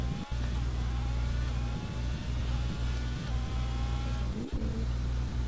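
Formula 1 cars in a video game roll out onto the Bahrain track for qualifying, a continuous droning engine hum with a faint whine, steady and moderately loud with no break.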